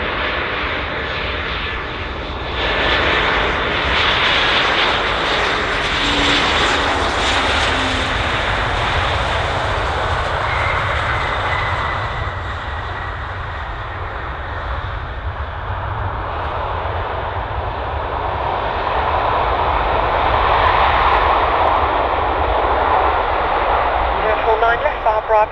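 A KLM airliner landing on runway 09 at Bristol Airport, its engines producing a steady, loud roar with a whining tone that swells and fades slightly over the approach, while radio voices talk throughout.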